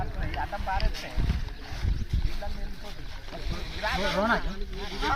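Floodwater rushes steadily through a waterlogged paddy field of sprouting rice, a constant outdoor wash with some wind buffeting, while people talk over it.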